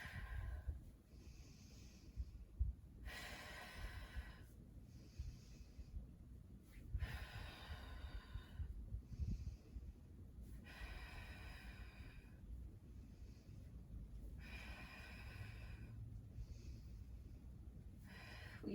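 Slow, even cycle of audible breaths during a Pilates knee-pull exercise for low back pain: airy inhales and exhales alternate in steady rhythm, close and fairly soft, with no talking.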